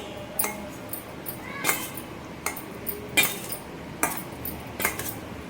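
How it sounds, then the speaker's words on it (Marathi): Broccoli salad is tossed with dressing in a bowl, giving a series of distinct clinks and scrapes of a utensil against the dish, roughly one every second, close and moderately loud. "आता जे आपण ड्रेसिंग बनवलं आहे ते टाकून देऊ याच्यामध्ये पूर्ण थोडं थोडं करू अशा प्रकारे आता याला छान मिक्स करून घेऊ"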